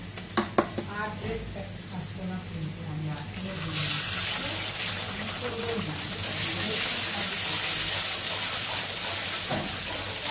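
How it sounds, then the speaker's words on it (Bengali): Pasta cooking in a pan with an egg added, heard as steady sizzling and stirring scrapes that swell louder partway through, with a few sharp knocks at the start and a voice talking over it. "এই যে পাস্তা রান্না করছি, ডিমটাও দিয়ে দিচ্ছি"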